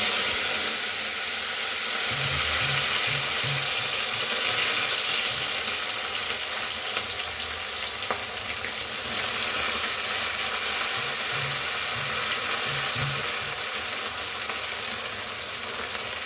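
Washed prawns hitting a hot curry pan beside simmering gongura, a steady loud sizzle and hiss of frying that runs throughout, with faint stirring scrapes underneath and no talking.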